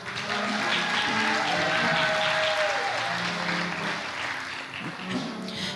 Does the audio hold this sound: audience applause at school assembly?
yes